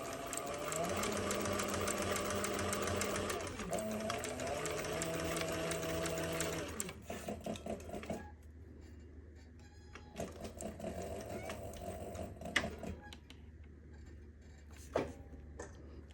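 A Cobra Class 26 industrial sewing machine stitches leather in close, loud bursts of rapid mechanical chatter that stop and start, with quieter handling clicks between runs.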